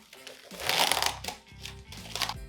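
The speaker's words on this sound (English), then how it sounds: "I'm gonna start off just by taking it out of the package" Plastic packaging crinkles and rustles close up in short bursts as a big four-bone prime rib roast is pulled from it, with quiet speech underneath.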